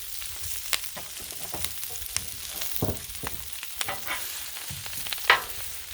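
Collard greens with bacon fat and vegetable oil frying on a Blackstone griddle, giving a steady close sizzle broken by scattered scraping and stirring clicks, with a sharper metallic scrape near the end and no talking.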